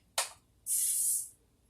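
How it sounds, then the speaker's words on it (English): Two short hissing bursts from a hairspray can misting onto styled wig hair, a quick puff followed by a longer steady spray, close and clear with no talking. "get you some hairspray, and while you take it and styling the hair, you just spray a little bit"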